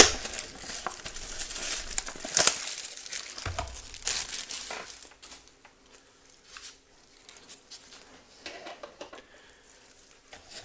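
Foil wrapper of a 2023 UFC Select trading card pack being ripped open, a close crinkling and tearing burst in the opening seconds, then fainter sporadic rustling and handling of cards.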